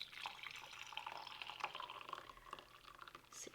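Water is measured and poured into an MRE pouch for a Meal Cold Weather scrambled eggs with cheese ration, a quiet, close trickle with small splashes and drips running steadily for a few seconds.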